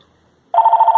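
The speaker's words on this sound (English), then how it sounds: "it's ringing the handset" Landline telephone handset, reached through a Bluetooth cellular bridge, starts ringing halfway through after near silence, giving a loud, steady electronic trill.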